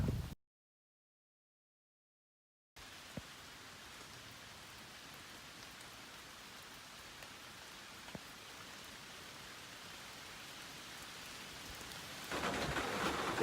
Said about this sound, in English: Kind of raining on us now, but just a light drizzle.